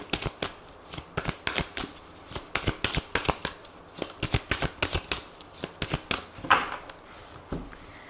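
Tarot cards being shuffled and cut up close, a rapid run of crisp riffling slaps and flutters that continues for about eight seconds with no talking.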